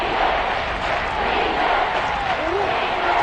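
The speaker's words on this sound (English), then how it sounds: "The crowd here in the Dome making things difficult." Loud, continuous roar of a stadium crowd inside a domed football stadium during a goal-line play, a dense, unbroken wall of cheering and yelling with no clear gaps.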